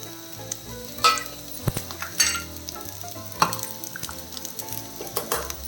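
Okra and tomatoes sautéed in a pan for Kerala-style sambar, crackling sizzle with repeated scraping strokes of a spoon, close and clear with no talk.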